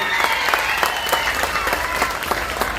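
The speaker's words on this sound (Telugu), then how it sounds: "గట్టిగా చప్పట్లు కొట్టి అభినందన తెలియజేయాలి" Audience at an outdoor election campaign meeting at a school in Allampuram applauds candidate Bolisetti Srinivas: steady, dense clapping from a crowd, loud and continuous for a few seconds.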